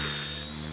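A simulated RC helicopter in the AccuRC simulator video game pirouettes through a funnel manoeuvre, giving off a steady, loud rotor and motor whine with layered humming tones.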